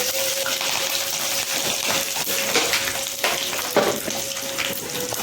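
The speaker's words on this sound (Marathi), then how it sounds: "बघा मोहरीचा तपतपलेला आवाज येत आहे" Mustard seeds crackle and pop in hot oil in a pan, a bright continuous sizzle dotted with small sharp spits, close and steady throughout.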